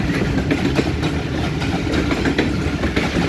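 Awam Express passenger train, including a post office coach, departing toward Lahore near the railway station, a loud, steady, close rumble of rolling wagons with faint rhythmic clatter and no talk.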